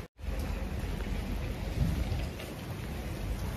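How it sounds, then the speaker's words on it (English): Rain pours in a steady, dense hiss with a low rumble underneath, close and continuous after a brief cut at the start, with no talking. "it's raining"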